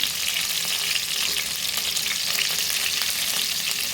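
Eggplant and tomatoes sauté in a hot pan with a dense, even sizzle and crackle that runs unbroken and fairly close, with no voices.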